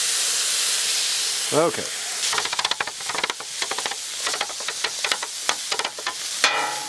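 Beef sizzling on a Blackstone griddle set on high, a steady hiss broken by scraping spatula strokes and clattering taps, with a person speaking briefly.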